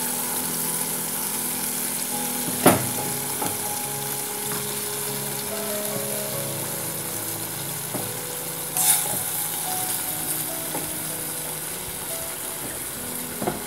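Goat head meat in a spiced masala, with potatoes in the dish, sizzles and fries steadily in a pan. The hiss stays even and close, broken by a couple of brief clinks as the meat goes in and is stirred.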